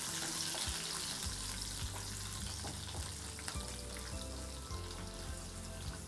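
Mustard seeds, fennel, curry leaves and garlic frying in hot oil for a potato fry, a steady loud sizzle with occasional sharp crackles and pops throughout.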